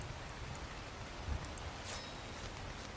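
Steady rain pouring down in the survival game Ark, a continuous soft hiss of drops with no talking, holding an even level throughout.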